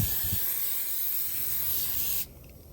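Aerosol dressing product sprayed over a Toyota Tacoma engine bay in one continuous hissing burst lasting about two seconds, close and steady, then cutting off abruptly.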